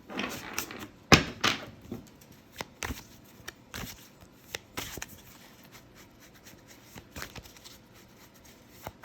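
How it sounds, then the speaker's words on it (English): Tarot cards being shuffled by hand, a few sharp riffling bursts followed by softer scattered slaps and taps, close and fairly quiet with no talking. "So get a nice, good, clear shuffle."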